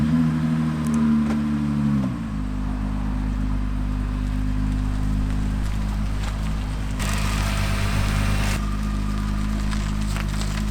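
A car engine runs close by, its revs dropping after about two seconds and then settling into a steady, loud low hum while the car is turned around.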